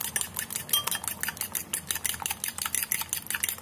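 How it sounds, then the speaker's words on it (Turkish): A spoon whisks batter briskly in a bowl, quick rhythmic metallic clinks and scrapes in a steady close-up pattern, no talking. "İyice çırpalım."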